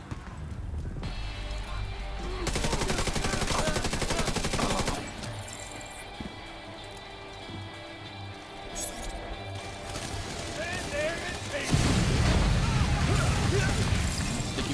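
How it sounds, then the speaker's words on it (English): Gunfire and sticky bomb explosions in The Division 2 video game, with repeated bursts of shots and rumbling blasts that rise and fall over about fifteen seconds, a heavy boom near the end, with a voice talking over the action. "Sticky bomb's working now."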